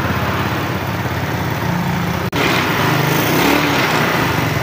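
An old Yamaha Mio Smile scooter from around 2007, just repaired after a dead CDI ignition fault, idles steadily with a buzzy, high-pitched small-engine drone, close and constant, with a brief dropout partway through.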